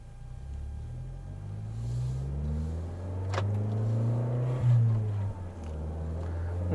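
Toyota Corolla Hatchback fitted with a Remark aftermarket exhaust revving nearby, a low rumbling drone that rises and swells in pitch, peaks briefly, then settles back to idle.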